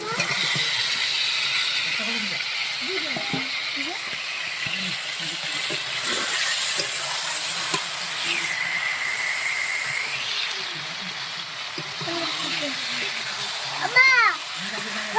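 Marinated chicken hits hot spiced oil in a home kitchen while cooking a Bengali country chicken curry, giving a steady hissing sizzle with occasional clatter of utensils as people talk nearby.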